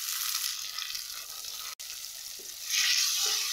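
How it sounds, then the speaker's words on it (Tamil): Onions and tomatoes sizzle steadily in a hot pan, a continuous crackling hiss that swells louder near the end, with a brief clink partway through. "சேர்த்துட்டு நல்லா வதக்கி எடுத்துக்கலாம்"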